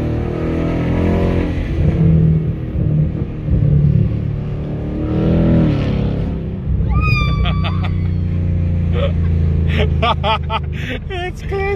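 A Ford Mustang S550 with an X-pipe exhaust drones and growls under steady driving, with a few throttle swells and sharp chirping whistles late on, while people talk over it.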